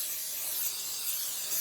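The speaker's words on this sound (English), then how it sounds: "We're going to lightly spray our pans" Cooking spray is misted onto cake pans, giving a steady, soft, high hiss that lasts under two seconds without pause.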